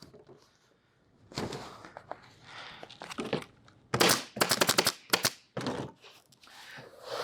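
A staple gun fires staples one after another through an MSF Arrowhead seam, a run of sharp, close, loud snaps in quick bursts with short gaps between them, and no talk over it.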